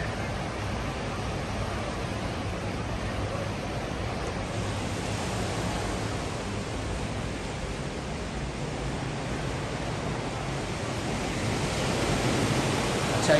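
Steady ocean surf at Waikiki Beach, Honolulu, Hawaii, roars as a broad, continuous wash of noise, swelling slightly toward the end, with no voices.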